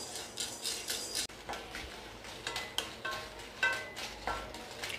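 Curry leaves and spices are dry-roasted and stirred in a pan, producing a continuous series of light scraping and rattling strokes with a soft crackle underneath.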